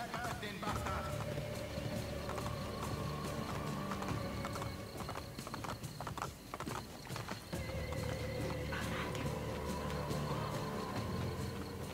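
A horse's hooves trot with a steady clip-clop in the video game Assassin's Creed Brotherhood, joined by a whinny and background game sounds, moderately loud throughout.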